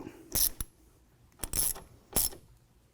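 Metallic clicks and ratcheting clinks come from a shoulder bolt being installed into the upper bracket of a Rugged Ridge soft top on a Jeep, in three short bursts, close and quiet.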